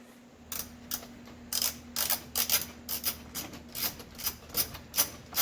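A socket wrench ratchets on a 5/8 bolt holding the headlight switch of a 1971 GM vehicle, making repeated close, dry clicking bursts in an irregular rhythm with no voices.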